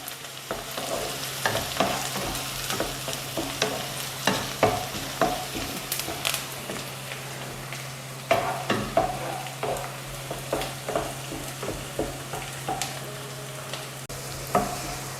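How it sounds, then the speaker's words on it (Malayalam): Curry leaves fry in a pan for a ginger curry while a spoon stirs them, giving a steady close sizzle punctuated by frequent scraping and clinking strokes, with no talk. "കുറച്ച് കറിവേപ്പില ഇടാം ഇതെല്ലാം നല്ലപോലെ ഇളക്കി നല്ലപോലെ മൂപ്പിച്ചെടുക്കണം"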